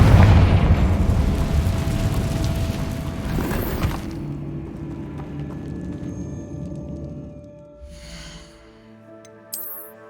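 A Confringo blasting spell bursts in Hogwarts Legacy with a loud, close explosion at the start that rumbles and fades over several seconds, followed by lingering magical chimes and a small pop near the end.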